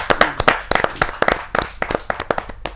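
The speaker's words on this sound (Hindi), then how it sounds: "जोरदार ताली के साथ रसिक गुप्ता जी का स्वागत।" Audience at a Hindi kavi sammelan poetry gathering clapping to welcome a poet, with sharp, uneven claps in quick bursts, fairly close and loud, fading slightly between flurries.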